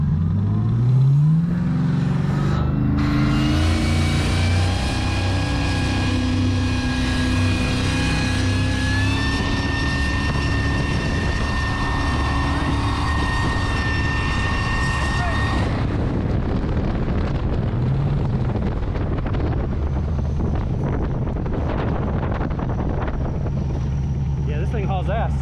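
An LS-powered jet boat engine with an LSA supercharger revs at throttle, rising to a loud, sustained whine for about fifteen seconds before dropping back to a rough, rumbling idle amid wind noise.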